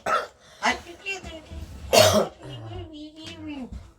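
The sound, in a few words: child coughing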